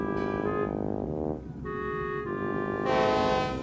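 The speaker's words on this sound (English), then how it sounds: "honked loudly at him." A sequence of loud, sustained tonal boat horn blasts in a harbour, several overlapping pitches sounding in turns with short gaps, close and prominent.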